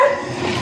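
Dogs barking and yipping in a Philippine street setting, a short burst close by.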